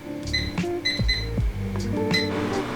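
A string of short electronic beeps as microwave oven buttons are pressed, mixed with soft clicks and thumps of the microwave door nearby.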